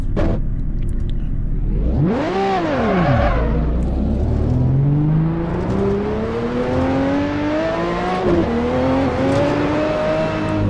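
A 1977 Broadspeed Jaguar XJ12C racing car in Assetto Corsa, its engine rising sharply in a brief rev, then climbing steadily and smoothly through a long acceleration, a loud, close, continuous drone with no talk.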